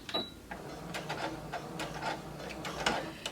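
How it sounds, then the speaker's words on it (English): A sewing machine runs short bursts stitching forward and then in reverse along a 5/8 inch seam on a half circle skirt, with quick mechanical rattles and clicks close by, fairly quiet throughout. "Sew forward and back stitch."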